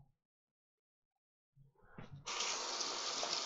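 A paintbrush is rinsed under a cold kitchen tap: a brief quiet, a few soft handling clicks, then the faucet opens into a steady, close gush of running water.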